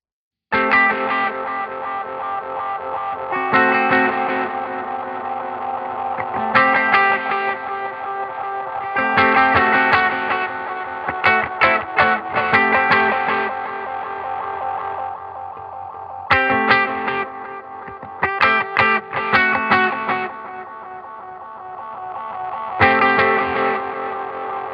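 Guitar played through a Fish Circuits Echo Limiteur hybrid delay, with the limiter choking off the echo repeats, so phrases of chords and choppy staccato bursts cut short into gaps, repeating in clusters, no talking.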